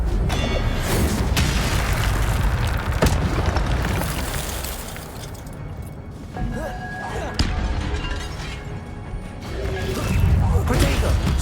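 Incendio fire spell cast during a guard fight in Hogwarts Legacy, a loud sustained roaring blast of fiery rumble with crashes and bursts layered over dense game noise.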